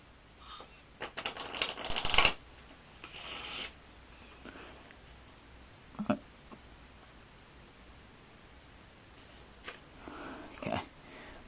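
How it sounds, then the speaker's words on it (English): Playing cards are shuffled close by in short bursts of rapid riffling and rasping, separated by quiet stretches and a few soft taps. "Then we're going to shuffle."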